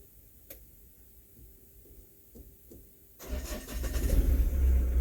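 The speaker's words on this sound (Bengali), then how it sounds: "আমি এটা স্টার্ট করে দেখছি গাড়িটা সাউন্ড কেমন রয়েছে" A few quiet ticks and clicks, then a Mahindra Bolero Pickup engine cranks and catches on the first try, settling into a loud, steady idling rumble.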